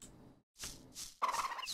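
A bird in the video game moon: Remix RPG Adventure gives short gobbling calls, three quick bursts with the last loudest and warbling, close and clear with no speech.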